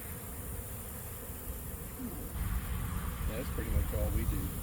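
Honey bees buzz around an open hive during an inspection, a faint steady hum with a few louder passes near the end, while a person talks quietly.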